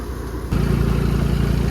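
A Swaraj 722 XT tractor engine idles, then rises in loudness to a steady, loud, pulsing drone at about 1200 RPM while used to winnow paddy.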